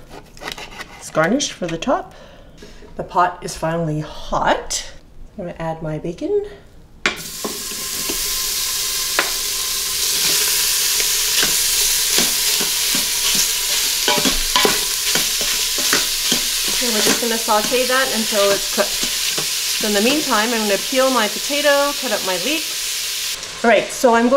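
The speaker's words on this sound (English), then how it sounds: "So basically we're just making bacon bits" Bacon bits frying in an Instant Pot set to sauté, a steady loud sizzle that starts partway in and continues under a person talking, with occasional stirring scrapes.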